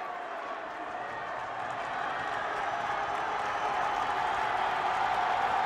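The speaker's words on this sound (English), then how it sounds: "And you can hear the crowd." Crowd noise at a boys' high school basketball semifinal against Bishop Stang, a broad steady roar of spectators during a tense free throw that swells slightly louder toward the end.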